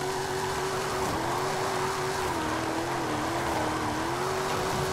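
A fully upgraded Toyota Tundra drift car in Gran Turismo 7 drones with a steady engine note whose pitch wavers up and down as the throttle shifts, loud and continuous with no talk.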